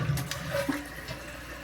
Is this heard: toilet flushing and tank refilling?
yes